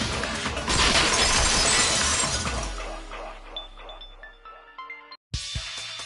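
A vase shatters in the video game Danganronpa Goodbye Despair: a loud, dense crash of breaking glass and ceramic, followed by scattered tinkling shards ringing out and fading, then a brief silence and a short bright clink.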